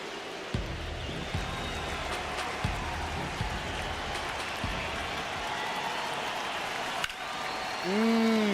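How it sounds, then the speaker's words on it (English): Steady stadium crowd roar from a baseball video game fills the scene throughout, loud and continuous with a few sharper pops and claps, closing on a brief tonal swell near the end. "Crowd is loud, ready to go."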